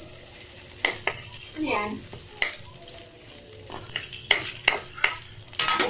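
Cabbage sautéing in hot oil in a pan for ginisang repolyo, with a steady bright sizzle and scattered utensil scrapes and clicks. Someone speaks briefly over the cooking.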